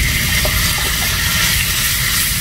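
Chicken pieces drop into a pan of sautéed ginger and garlic and fry with a dense, steady sizzle close up, loud and continuous without talk.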